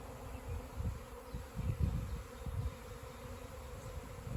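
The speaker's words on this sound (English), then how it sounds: "they're swarming around some bushes here right behind the other beehives" A honey bee swarm buzzing around bushes near beehives outdoors, a steady dense drone of many insects with louder passes swelling near the listener.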